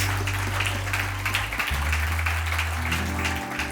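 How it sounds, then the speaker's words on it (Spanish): A church congregation applauds during a worship service, dense steady clapping filling the room while sustained low keyboard or organ tones hold underneath. "Vuelve a darle un aplauso."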